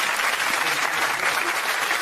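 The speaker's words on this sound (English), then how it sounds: "Give him a round of applause" A studio audience at a TV talk show bursts into steady applause, a dense wash of clapping that holds at an even level for a couple of seconds.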